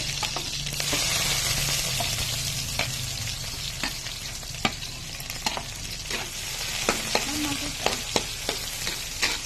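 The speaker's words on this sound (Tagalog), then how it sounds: "Unahin natin ang bawang. Tumatalabsik na po. At isunod na po natin ang sibuyas." Garlic and then onion dropped into hot cooking oil sizzle and spatter steadily, a dense crackling hiss with scattered sharp pops and stirring clicks, close and continuous.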